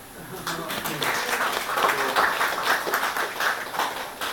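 Applause from the audience at a two-year anniversary gathering, honoring a colleague; moderate clapping swells and holds at a steady level, with some voices mixed in.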